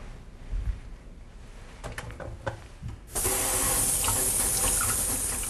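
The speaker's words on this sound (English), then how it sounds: "so I'm going to first wash my hands" Hands washed at a sink before an abdominal physical examination: faint handling clicks and rustles, then a tap opens into a loud steady rush of running water that continues to the end, close by.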